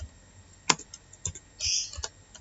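Keys on a computer keyboard are pressed for a shortcut while HTML code is edited: a few crisp, close clicks at irregular spacing, with one short rattling burst of keystrokes partway through.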